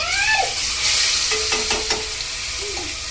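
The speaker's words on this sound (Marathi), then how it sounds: "आता टाकते इथे मिरची आणि लसूण ठेचून ठेवली आम्ही" Crushed chilli, garlic and curry leaves hit hot oil with cumin and asafoetida in a pan, a loud steady sizzle and hiss close up, with a few stirring scrapes.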